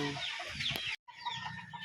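A game farm rooster clucks close by in short, bright bursts, alone with no talk and a brief gap partway through.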